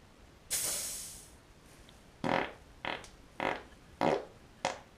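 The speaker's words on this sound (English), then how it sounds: "you gotta know when you gotta stop farting when it starts to sound high pitch like that" Raspy fart-like bursts sputter around a 2005 Honda CR85R dirt bike during a compression test: one long fading blast, then five short, sharp puffs in quick succession, close and fairly loud.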